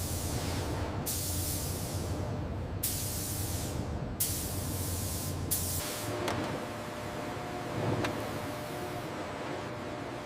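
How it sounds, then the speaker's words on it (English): Spray booth equipment coloring snake skin leather in a modern jacket factory gives steady broadband hissing, with several loud spray bursts of a second or so each, then a lower continuous hiss with faint clicks. "Spray booths color with precision."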